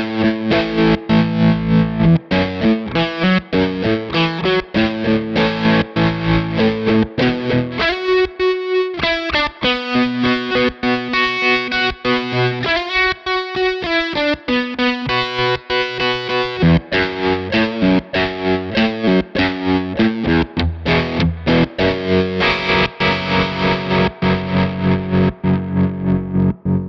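Electric guitar rhythm played through stacked Diamond effects pedals, including tremolo, giving a thick, distorted, chorus-washed tone with steady chugging strums that pause briefly midway, loud and continuous with no talking.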